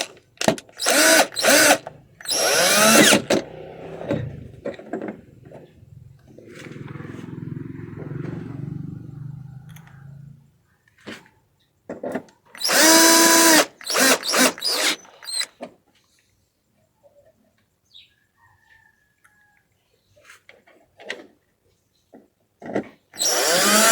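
A power drill drives temporary screws into a flat-screen LED/LCD TV during a power supply replacement, giving a sustained mid-level whir for several seconds between stretches of talk, with short clicks and handling noises later.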